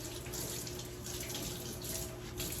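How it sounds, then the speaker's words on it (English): Carrots rinsed under a running kitchen tap with a small mesh vegetable washer, a steady close rush of water with no talking. "I'm just simply gonna run them under water and use this little thing."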